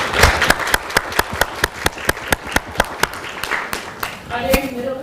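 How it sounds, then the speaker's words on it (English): Lecture-hall audience applauding faculty and staff, a few sharp distinct claps in a steady rhythm over a faint wash of clapping, with a voice near the end. "Can we give them all a hand clap?"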